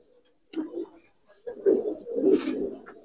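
Giribaz and coloured pigeons coo up close in two throaty, rolling bursts: a short call, a pause of about a second, then a longer, fuller coo.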